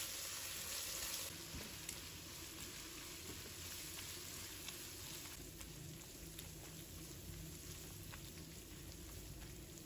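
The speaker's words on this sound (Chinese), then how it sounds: "然后把刚才调好的配料放入锅中，给它们炒香，炒出红油。" Seasoning paste stir-fries in a wok with pork belly, a soft, steady sizzle and crackle heard close, with light scraping stirs and no voices.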